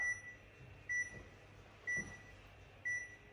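A workout interval timer for a Tabata cross-training session gives three short, sharp electronic beeps spaced about a second apart, a countdown over a quiet room hum with no talking.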